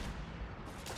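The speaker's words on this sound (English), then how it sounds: "Grenades. Great." A grenade explosion in the Fallout video game, a dense, booming blast that fills the whole moment at close range, with no speech.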